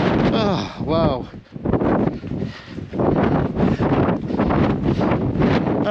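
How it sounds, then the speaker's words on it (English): Strong 30-40 mph wind buffets the microphone on an exposed hillside on a coast-to-coast walk, a loud, continuous roar with low gusty rumbling that surges and dips, while a voice talks and exclaims over it. "That was 30-40 mile an hour wind there."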